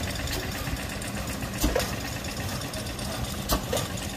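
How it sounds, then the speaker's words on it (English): A large Roots diesel engine idles at the Booleroo steam and traction rally, an even low rumble with a couple of louder knocks, moderately close and with no talk over it. "that might be one of the coolest engines I've ever seen, eh? The big Roots diesel."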